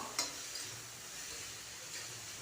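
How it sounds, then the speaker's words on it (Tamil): Tomatoes sauté in a pan for chutney, giving a faint, soft sizzle with a couple of light clinks of a spoon against the pan. "தக்காளி நல்லா மசிஞ்சு வரணும் அது வரைக்கும் நல்லா வதக்கி எடுத்துக்கலாம்"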